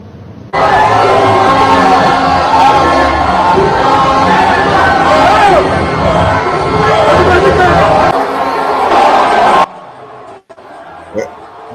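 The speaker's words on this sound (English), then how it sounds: "There's a crowd there" A large crowd at a Peter Obi political rally in Nigeria, loud dense roaring and cheering that holds steady for about nine seconds, then cuts off abruptly, with shouting voices mixed in.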